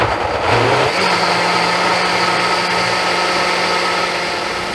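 A kitchen blender pureeing broccoli cheese soup with the lid on, a loud steady motor whir that spins up at the start and holds an even drone throughout, with no talking.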